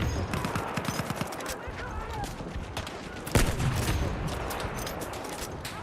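Battlefield 1 gunfire in trench combat, a dense stream of rapid rifle and machine gun shots with one heavier blast midway, with voices under the shooting.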